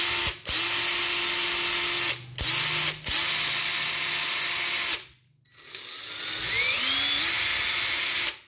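Ryobi cordless drill given a test spin, its motor whirring loud and steady in several bursts with brief stops between, then spinning down and winding back up to a rising whine.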